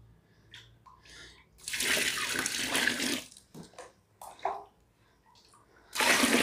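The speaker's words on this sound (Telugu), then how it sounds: "ఒక టెన్ లీటర్స్ అన్ని వాటర్ పోసేసి దాన్ని బాగా క కలిపెట్టేసి పెట్టేసేయాలండి" Water gushes in loud bursts, about ten litres poured into a container to mix jeevamrutham, separated by quieter gaps with small clinks and handling noises.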